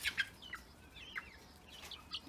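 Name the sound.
heritage breed chickens clucking in a garden cage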